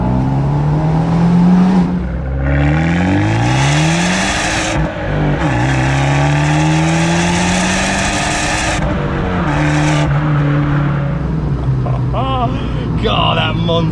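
Abarth 124 Spider with a 1.4 turbo engine and Monza exhaust revving hard, loud and close, its pitch rising and falling through several sustained pulls with bursts of exhaust rasp.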